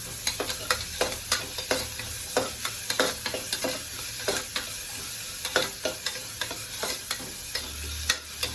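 Onions and garlic-chili paste sauté in a pan with a continuous sizzle, punctuated by frequent rhythmic scraping and tapping stirs of a spoon against the pan.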